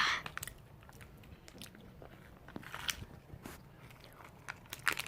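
Close-miked crunchy snack eating for ASMR, with a steady stream of crisp bites and crackly chewing, soft and intimate, occasionally punctuated by sharper crunches and with no clear talking.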